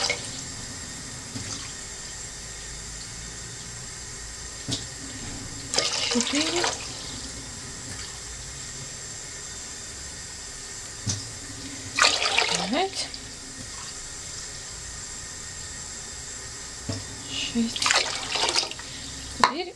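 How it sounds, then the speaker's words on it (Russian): Cold tap water pours into a saucepan in short separate bursts, each a hiss and splash under a quiet room tone, with a voice speaking between the pours. "Берем кастрюльку и начинаем лить воду."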